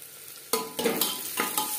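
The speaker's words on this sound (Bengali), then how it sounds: "পেঁয়াজের সাথে রেড চিলি পাউডার বেশ ভালো করে মিক্স করে দেবো।" Red chili powder being stirred into onions frying over a low gas flame for mutton curry, a steady sizzle broken by several scraping stirring strokes in uneven rhythm, close and fairly loud.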